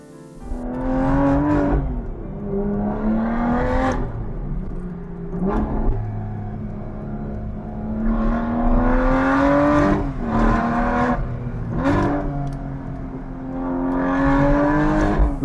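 A 2010 Aston Martin DBS engine revs and accelerates repeatedly, its loud steady drone rising and falling through several gear changes, with no voices over it.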